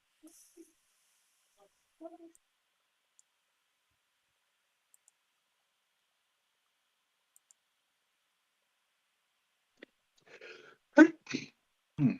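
Mostly quiet, then a sharp sneeze bursts out close by near the end, followed right away by a short spoken phrase.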